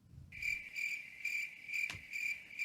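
Crickets chirp in a steady, regular pulsing rhythm, close and clear against a quiet background, with one brief sharp click partway through and no talking.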